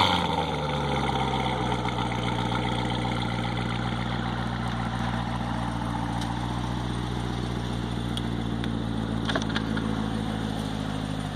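A 2017 Corvette Grand Sport with an 8-speed automatic idles after a remote start, a steady, fairly quiet engine rumble holding evenly throughout with no voices.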